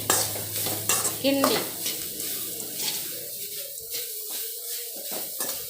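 Ragi sevai and grated coconut get stirred in a pan with a faint sizzle underneath, giving scraping strokes and a few metallic clinks that are busiest early on and then thin out into quieter, sparser stirring.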